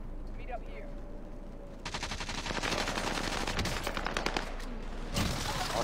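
Rapid bursts of automatic gunfire in the online shooter game Warzone, a dense rattling volley that starts abruptly and continues loud and close for several seconds, with a brief pause near the end.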